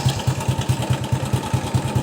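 A 2008 Honda Wave 100 R motorcycle engine runs with a rapid, steady low thumping pulse, loud and close, with no talking.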